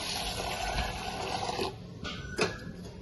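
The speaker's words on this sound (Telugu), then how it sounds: "వాటర్ పోసి కడుక్కున్నామండి కందిపప్పుని" Water swishes and splashes in a container of pigeon pea lentils being washed, with a couple of brief louder pours or sloshes near the end, close by with no talking.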